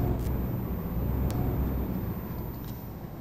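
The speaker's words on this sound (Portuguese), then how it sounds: "Ligando a chave do caminhão. A partida dele aqui." A heavy truck engine in the Euro Truck Simulator 2 video game cranks and settles into a steady, deep diesel rumble heard from inside the cab, with a brief faint click or two over the drone.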